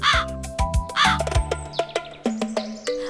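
Cartoon crow cawing in a Hindi animated story, a run of harsh, loud caws repeated close by, with shorter calls and tonal music or effects continuing underneath.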